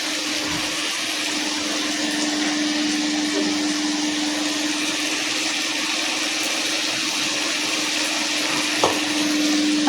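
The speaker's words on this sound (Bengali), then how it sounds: "এবার আমি জল দিয়ে দেব।" Water poured into a pan of frying spice paste for a tangra fish curry sets off a loud, steady hiss that runs unbroken, with a low hum underneath.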